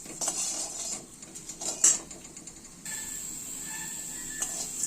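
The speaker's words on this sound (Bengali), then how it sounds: "দিয়ে এটাকে আমরা শুকনো খোলায় নেড়ে নেব" Spices dry-roasting in a dry pan with a pinch of salt, stirred with a utensil that clinks and scrapes against the metal in irregular bursts, close by, with a steady faint sizzle-like hiss underneath and no talk.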